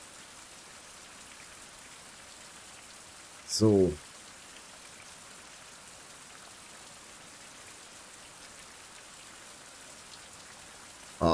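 Steady rain falls in the survival game Survival: Fountain of Youth, a soft, even hiss of drops running throughout, interrupted by a brief spoken word partway through and another at the very end.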